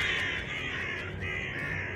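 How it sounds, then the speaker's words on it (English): Birds caw steadily in the video game Deeper Sleep, a harsh overlapping chorus of crow-like calls that fills the whole stretch at close range with no speech. "Damn birds."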